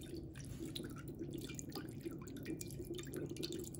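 A cracked, poorly fitting ceramic cactus cat water fountain runs its pump nearby, giving a soft, continuous trickle and splash of water.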